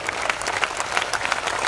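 An audience at a Hindi poetry recital breaks into brief, brisk applause, a dense patter of many hands clapping at moderate volume with no talking over it.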